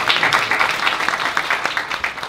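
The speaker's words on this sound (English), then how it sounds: "So give him a round of applause." Audience applause at a Startup Saturday event with Dave McClure, a dense, steady crowd clapping that stays fairly loud throughout, with no talk over it.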